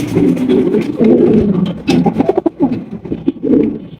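A pair of Danish black pigeons of Pakistani blood coo close by in low, throaty, repeated phrases with short pauses between them.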